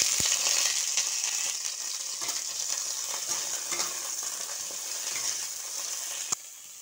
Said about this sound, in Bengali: এবার আমি কড়া পরিষ্কার করে নিয়ে এবার ফুলকপিটা ভেজে নেব আগে।